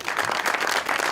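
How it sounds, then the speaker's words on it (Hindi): Brief burst of studio audience clapping for a guest on a Pakistani TV talk show, close and full, sustained evenly for about a second. "खातिन हज़रात, हमारे आज के सुपर गेस्ट के लिए तालियां।"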